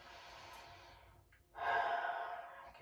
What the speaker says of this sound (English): Continue your deep breathing.